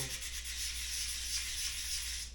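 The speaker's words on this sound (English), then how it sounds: "And I use sandpaper on all of" Steady, close sandpaper rasping against a turkey slate call, continuous strokes with no pauses and no voices.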